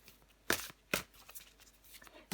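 Tarot cards are shuffled and drawn in a close, quiet run of sharp papery riffles and soft slaps, two crisp snaps standing out among lighter flicks, with no talk.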